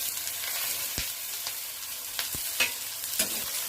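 Chopped capsicum sizzles in a pan of frying onions, a constant soft hiss with a few sharp clicks and taps from stirring.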